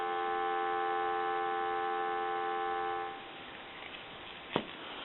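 A steady, even dial tone hums from a red Western Electric 2500 desk telephone for about three seconds, then cuts off, leaving quiet room noise and one faint click.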